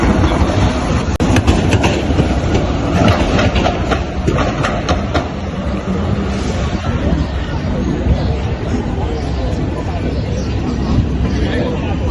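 Melbourne tram running along a city road, a steady loud rumble with rail clatter and traffic noise, faint crowd chatter mixed in throughout.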